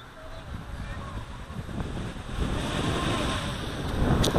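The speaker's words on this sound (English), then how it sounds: "It's Kona wind." Strong Kona wind gusts and buffets against the microphone outdoors at a quadcopter test flight, a steady rushing roar that grows louder toward the end, with voices faintly underneath.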